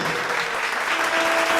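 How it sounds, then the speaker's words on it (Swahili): Audience applause at a live music performance, a loud, continuous burst of clapping with a faint sustained tone running underneath. "wapi makofi ya Waku tafadhali"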